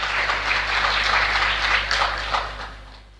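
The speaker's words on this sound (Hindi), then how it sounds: "हमारे गुरुदेव कहते थे कि तालियां ही बजानी है तो अच्छे से बजा।" Audience applause at a Hindi spiritual satsang discourse: a dense, steady clatter of many clapping hands that holds for about three seconds, then thins and fades out toward the end.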